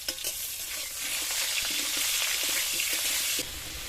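Potatoes with salt and turmeric hit hot oil, bursting into a loud, dense sizzle with stirring clatter that holds for a few seconds, then suddenly drops to a quieter hiss.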